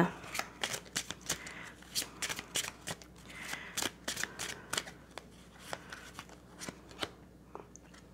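Tarot cards shuffled by hand in a run of crisp, rapid riffles and snaps, with a few sharper flicks as cards are drawn and laid down, close and moderately loud over faint background hum.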